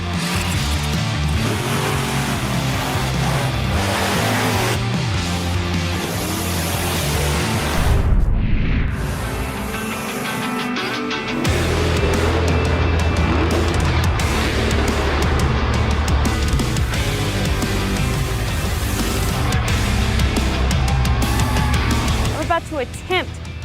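Monster Jam truck engines in a video game roar and rev loudly and almost without pause, with a brief drop-off partway through before the dense engine noise surges back.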